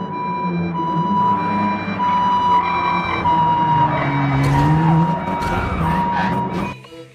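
A toy ambulance siren wails steadily and loudly up close, holding wavering electronic tones through the clip before cutting off near the end.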